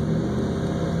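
A car engine idles steadily and up close, a continuous low rumble with a faint high whine and no talking over it.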